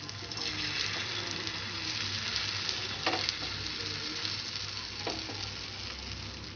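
Egg mixture for an omelette spreads in hot oil in a pan, giving a steady close sizzle and crackle with a few soft scraping stirs, no voices.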